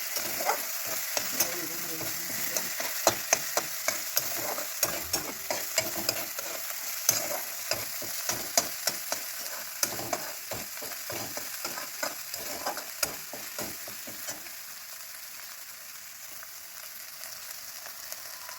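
Masala for a cluster bean and potato sabzi sizzles steadily in a pan while a spoon stirs it, with frequent scraping clicks over the frying hiss that grows quieter toward the end.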